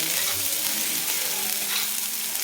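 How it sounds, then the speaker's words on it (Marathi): Mutton with mutton masala and black masala sautéing on a hot tawa, a loud continuous sizzle and crackle with faint stirring scrapes throughout, no voices. "एक मिनिटभर चांगलं परतून घ्यायचं"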